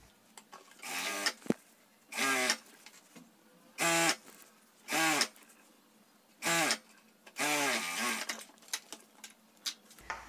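A sewing machine stitches the seam of a fabric zipper bag in short separate bursts of rapid mechanical clatter, about seven runs separated by quiet pauses, close and clear with no talking.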